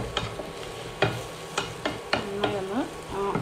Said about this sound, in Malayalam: അങ്ങനെ നന്നായി ഇളക്കി കൊടുക്കുക